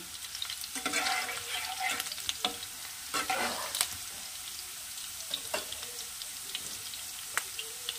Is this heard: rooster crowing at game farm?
no